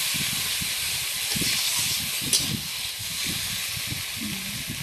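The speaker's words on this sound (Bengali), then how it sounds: "কিছুক্ষণ ভাজা হোক, ভেজে নিয়েছি ভালো করে" Spice paste and rohu fish fry in hot oil in a pan, giving a steady, close, even sizzle that runs throughout with no talking.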